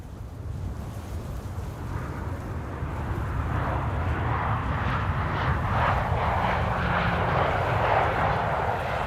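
A Transavia Boeing 737 jet at Amsterdam Schiphol rumbles with a broad engine roar that slowly builds and swells with a whooshing rise, steady and without voices.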